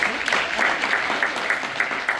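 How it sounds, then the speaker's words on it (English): A crowd at a Father's Day gathering in Compton's Dollarhide Center claps for a catering team, giving dense, loud, sustained applause that fills the whole moment without a break. "Give Class C Catering a wonderful applause."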